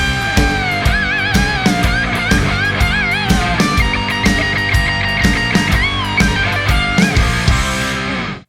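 Full rock band mix with a lead guitar solo carrying bends and vibrato over layered rhythm guitar tracks, bass and steady drums, loud and dense throughout before cutting off abruptly at the end.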